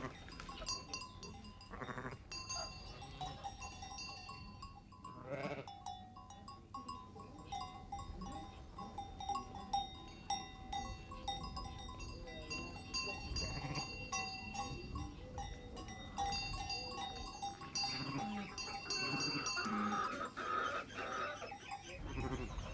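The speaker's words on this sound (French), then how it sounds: "Elles viennent de faire leurs petits et c'est aujourd'hui la première sortie avec leurs agneaux." Ewes and their newborn lambs bleat on a farm during their first outing, several calls rising over a continuous outdoor background with occasional clinks, moderately near.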